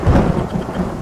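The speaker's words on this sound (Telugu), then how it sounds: "పెద్ద వర్షం పడుతుంది" Heavy rain falls during a storm as a deep roll of thunder rumbles loudly, a brief low boom over the hiss of the downpour.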